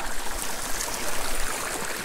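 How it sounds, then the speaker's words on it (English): Water drains from an outdoor hot tub in Idaho after the plug, a board, is pulled, giving a steady, close rushing and gurgling wash that continues without a break and without any talk. "you pull the plug down here, it's actually a board, and let the hot tub drain"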